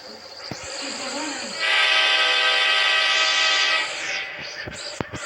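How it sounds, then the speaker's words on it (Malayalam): A toy train starts up and runs, giving a droning whine with a louder whistle-like tone in the middle, plus a few sharp clicks and knocks toward the end. "ഞാൻ ട്രെയിൻ സ്റ്റാർട്ടാക്കിയത്."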